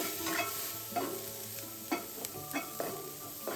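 Onion and dried shrimp frying in a wok after a splash of water is added, giving a soft steady sizzle with a few distinct spatula scrapes and stirring strokes.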